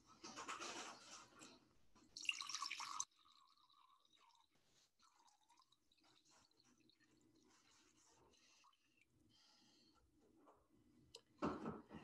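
Water splashes and pours during a baptism remembrance at a worship service, with loud bursts at the start and end and faint trickling and dripping in the quiet stretch between.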